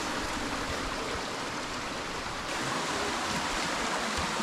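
Steady, loud rush of a waterfall and stream pouring through dense forest at Muppochora falls in Kaptai, a continuous broadband roar that swells slightly midway, with no voices.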